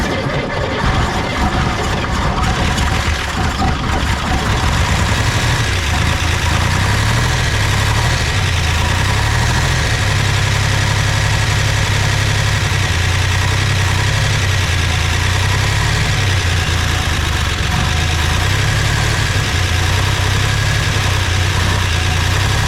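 A 1961 Chevrolet Corvair engine, missing a cylinder, idles steadily and loudly at close range with a rough, uneven low throb that lasts throughout, with no speech over it.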